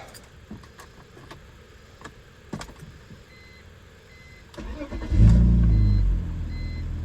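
A 2002 BMW E46 325i cranks briefly and fires up, settling into a loud, steady idle close to the microphone after a few seconds of quiet cabin clicks and rustling.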